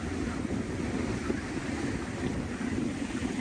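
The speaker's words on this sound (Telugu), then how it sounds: "భయంకరంగా అలలు తీరాన్ని తాకుతున్నాయి" Sea waves pound the shore at Ramateertham beach near a Shiva temple, a steady, loud, close roar of surf mixed with wind buffeting the microphone and no voices.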